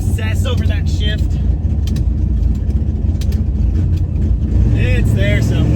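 Dodge Demon engine roaring steadily at high revs under hard acceleration, loud and close inside the car, with someone talking over it.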